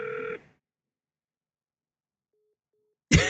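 A phone call drops mid-dial: a short burst of steady electronic tone cuts off into silence, two faint blips follow, then a loud noisy burst of sound at the end.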